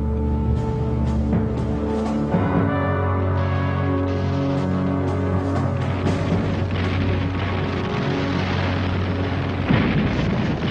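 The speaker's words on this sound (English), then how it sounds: "By now, the first American shells were falling on the beaches at Leyte." Heavy, continuous rumbling booms of naval gunfire and exploding shells, a dense dramatic barrage with a musical score layered over it.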